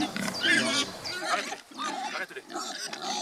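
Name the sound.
pigs grunting on an organic farm plot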